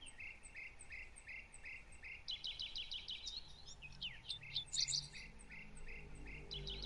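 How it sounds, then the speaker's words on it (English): Birds chirp and tweet outdoors in a quiet wild setting, with repeated bright calls over a steady insect and cricket drone; clusters of quick trills stand out midway, moderately close but soft. "A little quiet and more Tweety birds."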